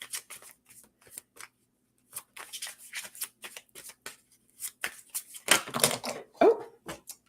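Oracle cards are shuffled by hand in bursts of soft riffling and slapping, with scattered taps and a louder clatter as the cards spill and fall near the end.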